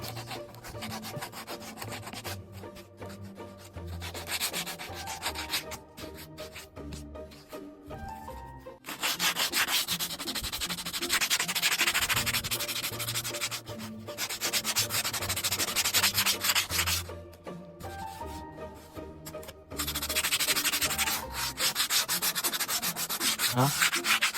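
Steady rhythmic scratching of sandpaper rubbed back and forth over a surface, close and continuous, with brief pauses between passes.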